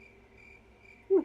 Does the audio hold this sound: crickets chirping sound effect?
yes